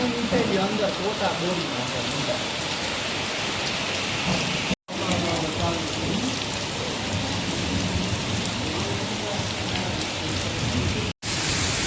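Heavy village thunderstorm rain pours steadily and densely throughout, a loud continuous hiss of drops on surfaces, broken by two brief cuts to silence.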